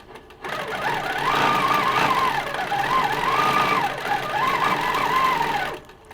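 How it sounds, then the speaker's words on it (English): A PFAFF powerquilter 1600 stationary quilting machine stitches at a steady regulated pace, a loud, close mechanical whir with a rapid needle chatter that swells and dips slightly, then stops. "I still have my foot on the foot pedal, but I'm not moving my quilt, but I can see that my machine continues to stitch"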